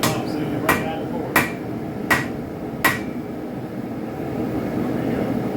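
Hammer blows on hot steel while forging a spike knife, five sharp ringing strikes at an even, quick pace, close and loud over a low background rumble.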